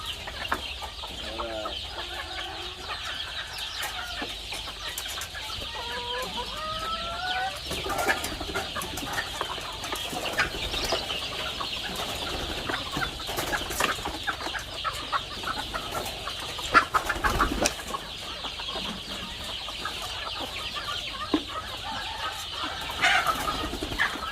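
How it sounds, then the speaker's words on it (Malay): Village chickens with two-week-old chicks cluck and peep continuously over a steady hiss of background noise, with occasional louder knocks. "Anak ayam yang umur 2 minggu kita masuk sini"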